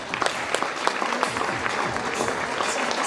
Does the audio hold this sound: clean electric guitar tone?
no